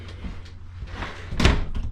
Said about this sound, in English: let's shut this door, we're not there yet